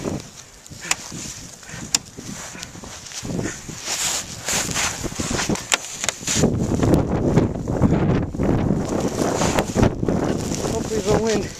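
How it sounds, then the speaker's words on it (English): Gusty wind buffets the microphone outdoors in a heavy snowstorm, a steady broadband rumble that swells louder in the second half, with brief handling knocks. "Hopefully the wind doesn't mess me up."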